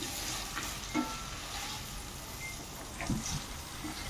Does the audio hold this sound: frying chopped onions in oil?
yes